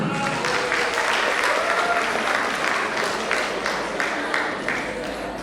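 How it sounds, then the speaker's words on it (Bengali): Loud, sustained applause from a crowd at a Nabavarsho (Bengali New Year) celebration, a dense steady roar of many hands clapping for Ishita and Samprikta, easing slightly toward the end. "আমি চাই ঈশিতা এবং সম্পৃক্তের জন্য একটি জোরদার হাততালি।"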